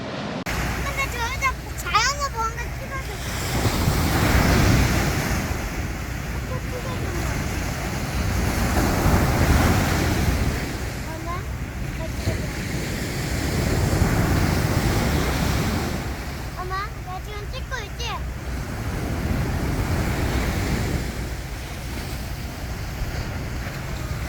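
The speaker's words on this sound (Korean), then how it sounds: "오늘은 파도가 좀 치네요" Ocean waves wash onto Hapyeong beach on the East Sea, a steady rolling surf with periodic swells and wind noise on the microphone, while people talk over it at moments.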